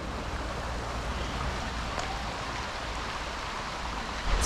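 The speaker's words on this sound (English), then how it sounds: "Some little babbling stream down there." A small babbling stream at Dunster Castle in Exmoor gives a steady, broad rushing wash of water that holds at an even level throughout, with no voices.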